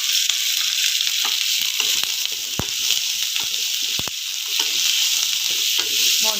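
Onions, green chillies, capsicum and curry leaves sizzle and roast in a pan, a continuous loud frying hiss with occasional sharp stirring scrapes and clicks, close up and without talk.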